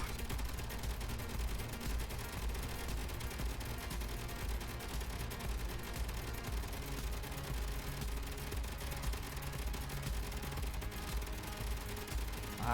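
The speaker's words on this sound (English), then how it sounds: "The turrets! Stop firing!" Turrets in Space Engineers keep up rapid, dense gunfire throughout, a loud continuous rattle of overlapping shots with no pauses.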